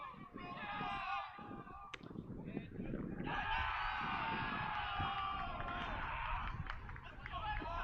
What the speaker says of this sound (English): Dugout with a loud cheer.